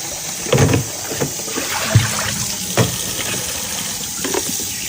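Pork being rinsed in water in a home kitchen, with splashing and sloshing in a few short bursts over a steady background hiss of running water.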